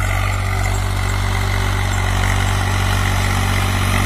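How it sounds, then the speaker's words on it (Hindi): A Swaraj 735 FE tractor engine idles steadily with a low, constant diesel rumble and rattle, close and continuous with no talking. "कोई धुआं नहीं ट्रैक्टर के अंदर।"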